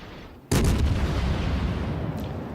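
The Zao cruiser's main guns in World of Warships fire a single loud, sudden salvo. A deep booming blast breaks a quiet hum, and the long rumbling echo keeps going to the end.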